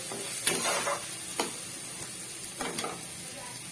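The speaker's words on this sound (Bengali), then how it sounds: "দিয়ে এখন আর একটু এই মশলাটাকে কষিয়ে নেব।" Spice masala with chili powder being fried and stirred in a pan, a steady low sizzle with a few sharp scrapes and clicks of the spoon, close and without talk.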